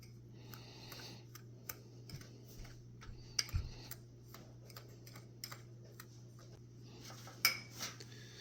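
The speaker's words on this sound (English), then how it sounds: "I'm just going to go ahead and mix this all together." Ingredients for homemade Canadian bacon are stirred together in a bowl, giving quiet, irregular clinks and scrapes of a utensil over a low steady hum, with a couple of sharper knocks near the end.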